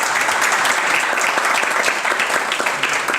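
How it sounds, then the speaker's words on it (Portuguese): Sustained applause from a studio audience at the close of a Brazilian municipal TV Câmara public-debate programme on education, dense steady clapping at close range with no speech over it. "Aplausos para vocês"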